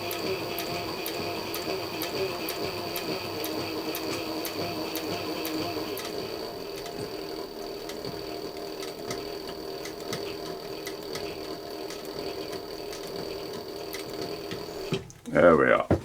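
A sewing machine with an edge guide stitches a consistent row along a leather wallet, a steady rapid mechanical ticking that runs continuously at close range, ending with a brief louder clatter.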